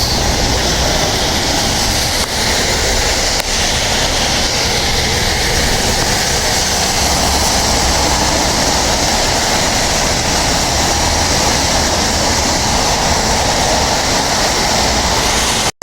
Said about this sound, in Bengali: প্রচুর প্রচুর মানে শিলা পড়ছে